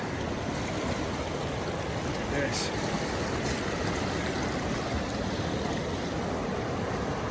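The Deschutes River rushes past close by at the shoreline in a canyon, a steady broadband roar of flowing water throughout, with a brief voice heard faintly underneath.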